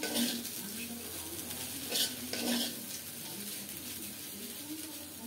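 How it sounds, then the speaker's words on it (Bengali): Vegetables being stirred and fried in a pan, with soft sizzling under repeated scrapes and clinks of a utensil against the metal, close and fairly quiet, a couple of sharper knocks standing out, no talk. "নেড়ে নেড়ে ভাজিটা সুন্দরভাবে করে নিয়েছি"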